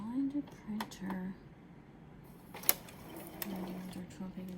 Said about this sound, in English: align the printer to get the best print quality